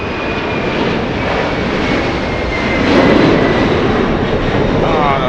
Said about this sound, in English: This 747 flying to Seoul in South Korea.